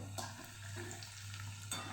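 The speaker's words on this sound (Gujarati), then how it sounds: "અહીં આપણું તેલ ગરમ થઈ ગયું છે તો કારેલાને આપણે તળી લઈશું" Steady, quiet sizzle of bitter gourd frying in hot oil, with a low constant hum and a couple of brief clinks or stirs.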